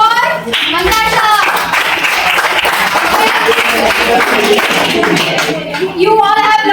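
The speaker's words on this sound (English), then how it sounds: "So clap for Manasha." A classroom full of children claps for a classmate, steady close hand clapping lasting several seconds, with children's voices chattering underneath throughout.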